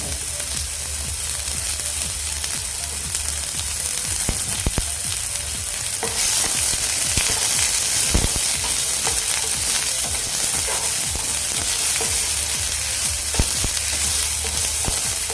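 Onion fries in a pan for katachi aamti, a steady loud sizzle with scattered spoon clicks against the pan, growing slightly more intense partway through.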